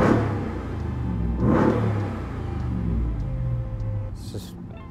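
A Ram TRX pickup engine rumbles and revs with a throaty exhaust, swelling once early on and then holding a steady, fairly close drone that fades slightly toward the end.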